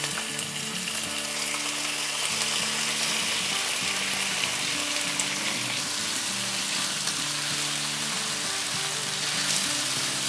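Small chicken breast pieces fry in hot oil with a loud, continuous sizzle and crackle that holds steady close up, with no talking.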